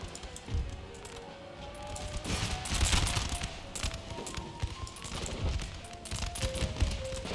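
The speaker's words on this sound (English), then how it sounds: "Artillery, you may fire on those guys" Artillery and massed musket fire from the video game Empire: Total War crackle and thud in dense, overlapping volleys, with heavy booms near the start and middle under a constant battle din.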